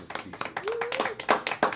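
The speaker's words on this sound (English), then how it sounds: "Give her a round of applause, ladies and gentlemen." Sparse, irregular hand claps from a small audience at a conga music show, close and distinct, with a voice briefly rising over them.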